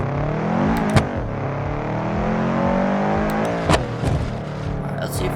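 A Subaru BRZ mod in the BeamNG.Drive video game revs and whines as it drifts through corners, pitch sweeping up and down with a couple of sharp clunks, and a person talks over it.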